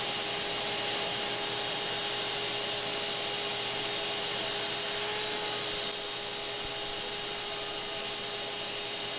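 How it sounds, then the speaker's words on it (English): A vacuum cleaner sucks out a large yellow jacket wasp nest inside a house, giving a steady, loud, continuous broadband roar with a constant whine that runs through the whole stretch. "Let's get some of these vacuum cleaners."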